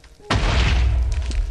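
A ghast fireball explodes in the Nether in Minecraft, a sudden loud boom that hits hard and rumbles on with a deep, spreading roar.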